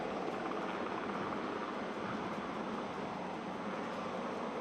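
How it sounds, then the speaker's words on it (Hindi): An Indian Navy helicopter lifts off during Navy Day celebrations in Maharashtra with marine commandos on board. Its rotor and engine make a loud, steady roar that stays unbroken throughout, with no talk. "अब हेलीकॉप्टर ऊपर की तरफ उड़ान भर रहा है"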